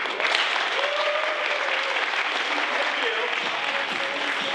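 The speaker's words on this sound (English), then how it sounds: "Please give a huge round of applause for Kabir Singh." Comedy club audience in Cupertino applauding a comedian onto the stage, steady full clapping and cheering throughout, with a voice briefly audible over the crowd.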